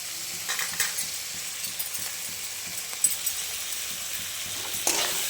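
Chili powder and masala being stirred into tomato in a frying pan for a paneer sweet corn kurma: a soft, continuous sizzle with occasional light clinks and scrapes of a utensil against the pan.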